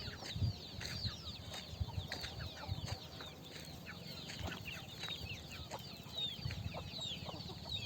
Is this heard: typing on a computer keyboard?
no